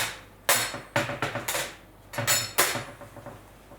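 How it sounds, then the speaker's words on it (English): A baking mold of warm cookies is tapped against a surface to loosen them, giving two close bursts of sharp knocks with a clattering, metallic ring and no voices. "And then you start tapping them and they start loosening up."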